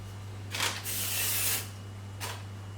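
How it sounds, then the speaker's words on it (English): Two short hissing sprays from an aerosol can of cooking spray onto baking paper, the first longer and sustained, the second a brief quick burst, close and clear over a low hum. "baking paper underneath and you spray it well"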